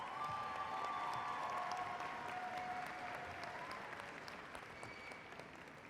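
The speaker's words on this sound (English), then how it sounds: "a round of applause for the master's graduates from the College of Arts and Sciences" Applause at a university graduation ceremony for master's graduates of the College of Arts and Sciences, a steady crowd of clapping heard from a distance that slowly thins out.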